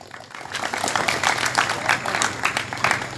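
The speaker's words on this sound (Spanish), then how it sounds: "¡Aplauso del público!" A boxing crowd applauds at a welterweight bout, irregular clapping and cheering rising in bursts over a few seconds, with voices mixed in.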